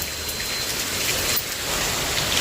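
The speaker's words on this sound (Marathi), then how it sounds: "आता इतका जोराचा पाऊस चालू आहे" Heavy rain hisses steadily and evenly, a dense wash of drops with no voices.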